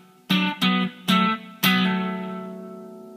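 Electric guitar playing a riff, four picked note attacks with the last ringing out and slowly fading, close and clear with no talking.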